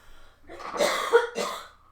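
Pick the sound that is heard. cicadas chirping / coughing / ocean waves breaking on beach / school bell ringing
coughing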